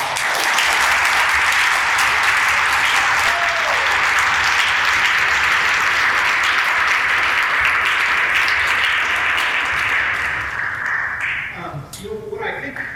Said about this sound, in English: would you please join my colleagues and I in giving a round of applause for all of us.